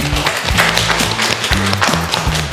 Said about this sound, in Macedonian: еден голем аплауз ве молам